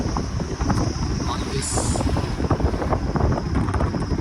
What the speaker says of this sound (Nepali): यहाँको वेदरले हेर्नुलाई एकदम चिसो हावा